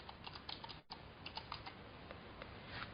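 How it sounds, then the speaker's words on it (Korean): Typing on a computer keyboard gives quick, irregular, faint key clicks through a low background hiss, the taps coming in short bursts with no voices. "타이핑 잘 안 되네"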